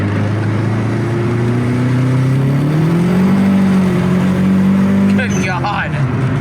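A car engine hums steadily and rises in pitch as the vehicle accelerates during a drive, with a brief rattling burst near the end and people talking over the motor.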